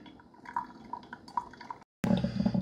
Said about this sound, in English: You can see it's almost done brewing the coffee.